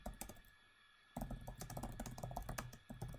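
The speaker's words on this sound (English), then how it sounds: "So if I just type this up" Computer keyboard typing while writing a SQL query, a quiet pause followed by fast, irregular bursts of close key clicks, no voices.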